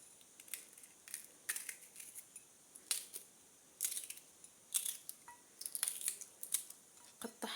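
Scissors snip repeatedly through a hair treatment ingredient during a homemade keratin-style hair recipe, giving about a dozen crisp close cuts in an irregular rhythm. Each is quiet and sharp, with no talk over them.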